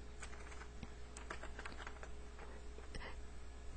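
Rapid, irregular clicking of keys on a computer keyboard, close by, with a steady low hum underneath and no talking.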